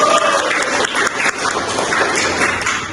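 Classroom applause from students at the end of a teaching session, a dense steady patter of many hands clapping together, fairly loud and close, running without a break.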